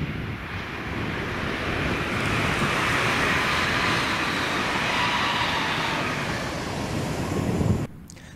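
ScotRail passenger train rushing through Carluke station, a broad rumbling roar that swells and holds steady for several seconds before cutting off abruptly, heard from the platform with some wind noise and no talk.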